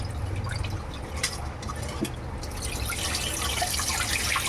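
Water splashing and trickling as it is poured off a live snakehead fish before cleaning and cutting, a steady wet patter with faint drips, close and moderately loud, with no talk.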